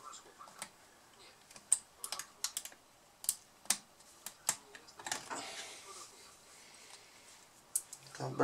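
Typing on the keyboard of a Lenovo IdeaPad Z580 laptop: close, crisp key clicks in irregular bursts, with a denser flurry of keystrokes midway, then a short pause and a few final taps.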